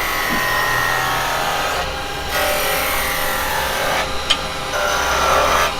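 A carbide chisel tapers a spinning wood blank on a lathe, giving a steady, close grinding scrape with brief pauses as the tool rolls over the workpiece.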